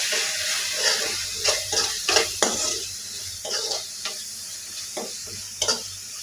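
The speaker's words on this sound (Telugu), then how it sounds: "ఇవన్నీ బాగా కలుపుకోవాలి." A spice mix of turmeric, chilli powder and garam masala frying in a pan, a sizzling bed under repeated irregular stirring scrapes and spoon knocks, close, with no talk.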